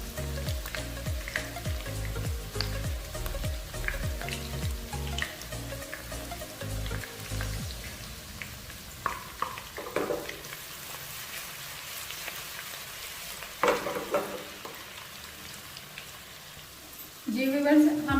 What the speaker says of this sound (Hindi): सिर्फ अदरक और लहसुन का तड़का लगाएंगे